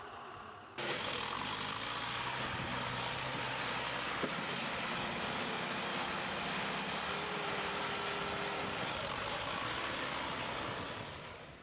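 A tractor engine runs steadily and loudly after a sudden start, a continuous droning hum with a faint steady tone partway through while an eight-year-old boy performs stunts on the moving tractor, no talking.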